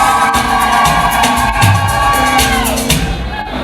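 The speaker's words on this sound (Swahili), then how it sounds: "Shangwe shangwe shangwe jamani." A wedding crowd bursts into loud cheering, whoops and shouts, with a high ringing tone of ululation or music woven through the dense, close roar of voices.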